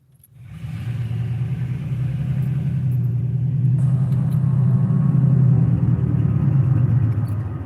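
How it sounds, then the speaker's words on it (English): An unfamiliar truck drives down a residential alley at night, its low engine rumble rising quickly from silence and holding steady and close as it approaches. "That's a truck I don't recognize coming down my alley."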